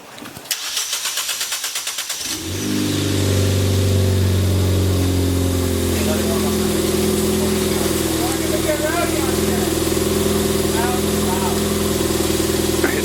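A Ford Fiesta fitted with a new downpipe and exhaust cranks briefly, catches, then settles into a steady, loud idle that holds for the rest of the stretch.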